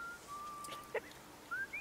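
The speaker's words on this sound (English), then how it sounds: "Yes, Astarion can whistle." A video game character, Astarion, whistles in short, thin, high tones: a long faint held note, then a brief rising phrase, with a soft click between them.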